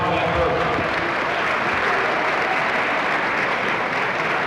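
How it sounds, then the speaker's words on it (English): Audience applause at a 75th anniversary party, a dense, steady round of clapping from a crowd that holds evenly for several seconds. "let's give him a big round of applause for that birth."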